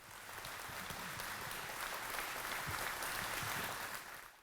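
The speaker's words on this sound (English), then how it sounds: "If y'all could stand, please, and clap for Robbie and Naomi for putting this together in such short notice." A roomful of audience members at a storm-readiness expo on Bayou Lafourche gives steady, sustained applause, dense clapping that holds evenly for several seconds and fades slightly at the end.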